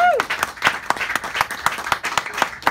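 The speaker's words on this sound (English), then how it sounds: "round of applause before we get started." Audience at a film world-premiere screening Q&A clapping briefly, a short burst of close, uneven hand claps with a voice faintly present.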